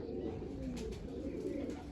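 Pigeons coo softly in a continuous low murmur, the faint rolling calls running under steady background noise.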